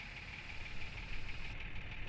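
Tractor engine idles in a farming video game, a steady low rumble with a faint knocking pulse, moderately loud and alone, with a slight rise in throb partway through.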